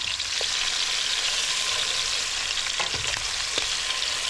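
Chicken pieces browning in a hot frying pan give a steady, loud sizzle and crackle throughout, with a few faint clinks from the pan and no voices.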